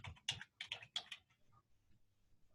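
Quick keystrokes on a computer keyboard as a name is typed, a short close burst of clicks that stops about halfway through, leaving quiet.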